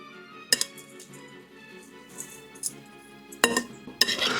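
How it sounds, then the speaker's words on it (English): A spoon tosses broccoli salad together in a bowl, with scattered light clinks and scraping against the bowl and a few sharper knocks toward the end. "I'm just gonna take my spoon and I'm just gonna toss everything together real quick"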